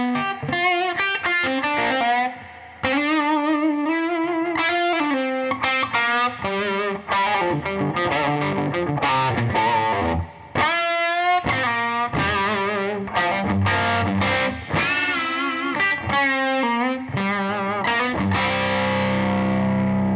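An electric guitar amp turned up into overdrive gives a loud, thick, distorted tone as fast riffs and sustained notes play continuously up close.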